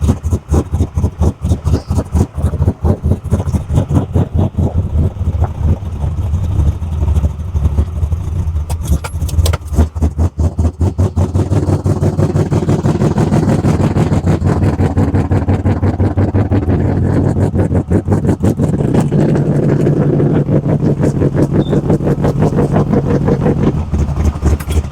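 Car engine on a G-body with a newly installed E85 carburetor, idling roughly and loudly on pump gas, with steady rapid close-miked pulsing and an uneven lope that barely changes.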